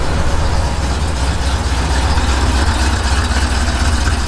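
A 1967 Pontiac GTO with an aggressive cam idles close by in a steady, loud, low rumble that holds constant throughout, with no talking.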